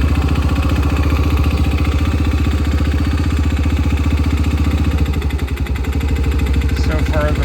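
A Kayo MR125 motorcycle fitted with a NIBBI PE24 carburetor idles close by with a steady, rapid putter and a slight dip in rhythm near the end, loud and unbroken.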